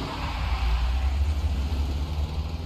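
A pickup truck idles in the zombie video game The Walking Dead: 400 Days, a low steady engine rumble with a constant, slightly pulsing drone and no talk over it.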